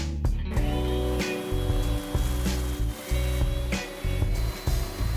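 A power sander grinds flat the rocking bottom of a glued-up wooden bandsaw box, a steady close whirring roar broken by short pauses and shifts in pressure, with no talking.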